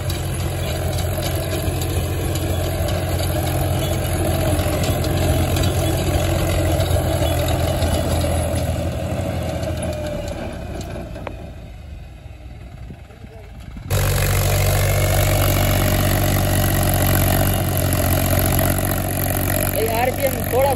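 Mahindra 265 DI tractor running a 7-foot rotavator at about 1600–1700 rpm, a loud steady low engine drone that dips briefly then returns at full strength, with talk over it.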